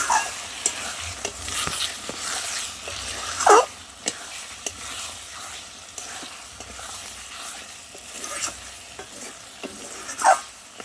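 Goat meat curry with tomatoes sautés in a pan, a steady close sizzle and frying hiss with a few louder stirring scrapes of the spoon against the pan.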